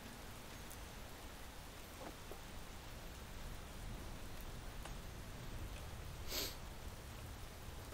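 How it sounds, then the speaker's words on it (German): Steady rainfall in the video game Space Engineers patters evenly and continuously with a soft hiss, rain only and no thunder, one brief brighter splash near the end and no talk. "Ja gut, dann ist jetzt nur Regen."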